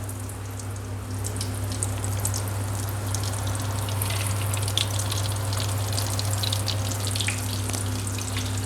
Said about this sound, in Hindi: देखिए ये गर्म हो गया है तेल, इसमें डाल दिया इसी तरह से।